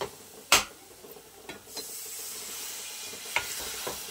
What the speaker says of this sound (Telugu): నేను డైరెక్ట్ గా వాటర్ పోస్తున్నాను చూడండి